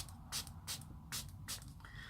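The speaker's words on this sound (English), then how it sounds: "it's a really good spray" A refreshing facial mist from a makeup bag is pumped four times, giving short soft hissing bursts at a steady pace, quiet and close, with no voices.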